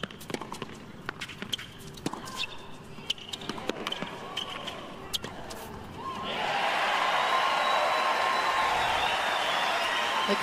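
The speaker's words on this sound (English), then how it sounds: "the crowd enjoyed that one" Crowd at a women's first-round tennis match at the 2020 Auckland Open: ball bounces and quick footsteps give way to a loud, sustained burst of cheering and applause from the stands, with a commentator speaking.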